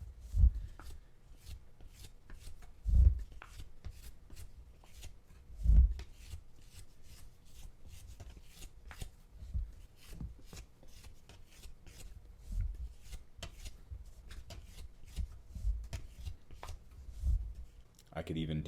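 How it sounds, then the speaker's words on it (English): A metal rib smooths the wall of a coil-built clay vase, making repeated soft scraping strokes with occasional louder thumps, close by and under intermittent talk. "Your metal rib is going to be really good for this type of smoothing."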